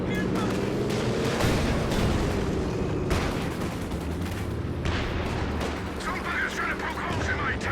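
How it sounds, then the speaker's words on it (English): Panzerwerfer rocket artillery barrage in Company of Heroes 2, a dense rolling rumble of launches and blasts with sharp cracks, under continuous excited commentary. "Panzerwerfer puts a stop to that in one barrage"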